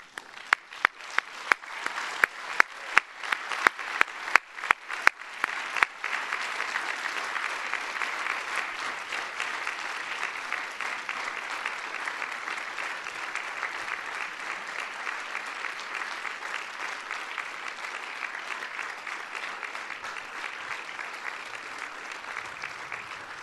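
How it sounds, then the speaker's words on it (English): Audience at a 2012 PhD convocation breaking into applause, with a few loud close claps at first, then swelling into sustained, even clapping from a large crowd. "I would ask all doctoral candidates to rise and applaud those family members and"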